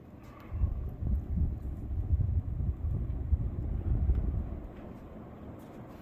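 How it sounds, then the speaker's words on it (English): An American Industries Hugger six-blade ceiling fan spins at high speed with a wobble, giving a steady low rumbling whoosh of moving air that swells and eases slightly, close and alone. "on high speed, the fan will wobble, you will see"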